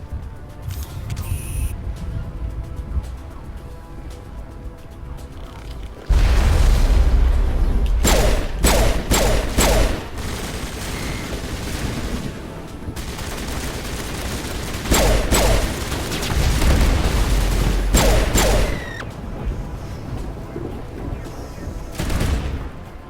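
Gunfire in the Mass Effect video game, bursts of rapid automatic shots and heavy booms in several volleys over a rumbling combat backdrop, loud and close with short pauses between clusters.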